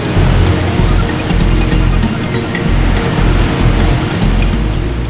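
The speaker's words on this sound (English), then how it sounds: "Where wild foaming waves roll noisily into naturally formed pools." Wild foaming ocean waves roll into natural rock pools on the coast at Buracona, a loud, continuous roaring wash of surf with crackling spray, constant and close throughout, with no voices.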